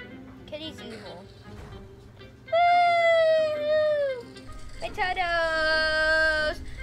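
Stylized cat meows from the video game Book of Monsters, two long drawn-out tonal cries in the middle and end, loud and close, over a busy game soundtrack with a voice talking earlier.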